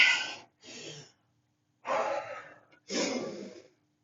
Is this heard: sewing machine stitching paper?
no